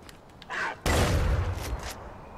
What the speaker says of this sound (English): This is a shotgun, everybody!